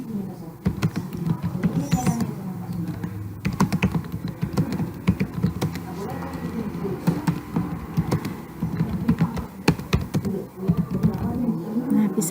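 Computer keyboard typing, a steady run of fast irregular key clicks heard close, continuing through the whole stretch at moderate loudness with no voice over it.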